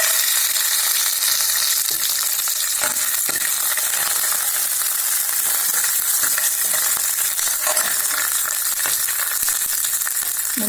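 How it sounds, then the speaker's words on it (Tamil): Cashews and raisins fry in a pan for a sweet potato aval payasam, giving a steady close sizzle with scattered stirring clicks and scrapes throughout, no voices. "வாங்க இப்போ முந்திரி பருப்பு திராட்சையை போட்டுடலாம்."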